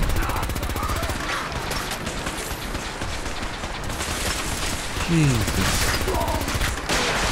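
Rapid bursts of gunfire from the video game Fallout 4 clatter continuously, with dense overlapping shots throughout, while a voice breaks in briefly over the shooting.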